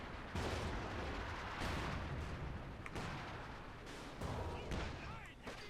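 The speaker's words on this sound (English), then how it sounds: "Howitzer opening fire." Howitzer artillery firing in the video game Company of Heroes 2, a dense, loud barrage of booming shots and rumbling impacts over continuous battlefield noise.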